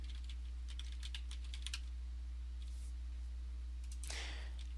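Someone types a password on a computer keyboard, giving a quick run of faint, light key clicks over a steady low electrical hum, then a brief louder burst of clicks near the end.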